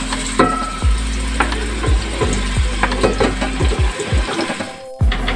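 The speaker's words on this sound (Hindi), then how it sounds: "अब मैं इसमें ऐड करूँगी 3 मीडियम प्याज थी जिसको मैंने स्लाइस कर लिया है। और प्याज सबसे पहले हम लाल करेंगे इसमें।" Three medium sliced onions fry in hot oil for moong dal, a steady loud sizzle broken by repeated stirring scrapes, with no voice over it.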